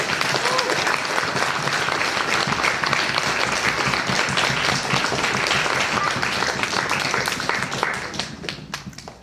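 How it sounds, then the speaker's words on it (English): Audience applauding student performers at a benefit concert, a dense, loud wash of many hands clapping continuously for several seconds, then gradually fading out at the end. "send a huge round of applause once again to our wonderful PMP and AME students"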